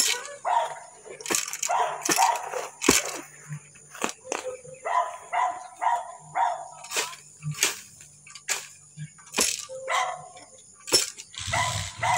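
A dog barks repeatedly in short bursts, fairly close, mixed with people talking and some sharp knocks.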